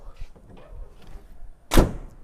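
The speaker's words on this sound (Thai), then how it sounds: "ประตูบานท้ายเดิมๆนะครับ ปิดแนบสนิทนะครับ นี่เดี๋ยวผมปิดให้ดู" The original tailgate of a Toyota Hilux Revo 2.8G pickup shuts with a single loud, close slam near the end, after quiet handling noise and faint rustling.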